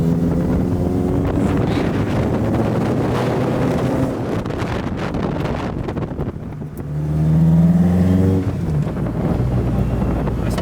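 A Toyota AE86 with a fabricated custom exhaust drives past outdoors, its engine note rising and fading amid heavy wind buffeting on the microphone, with a louder pass near the end.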